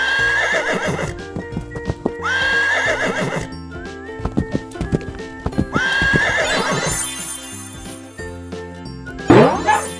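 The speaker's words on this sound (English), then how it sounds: "Horse," A horse whinnies loudly several times over steady clip-clopping hooves and jingling bells, ending with a rising shrill neigh.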